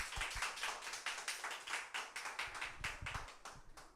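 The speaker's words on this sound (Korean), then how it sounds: "박수." A congregation claps during a Sunday church service, with distinct, fairly close hand claps in a brisk, uneven rhythm that continues steadily for a few seconds with no talking.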